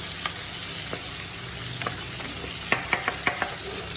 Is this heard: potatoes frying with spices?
yes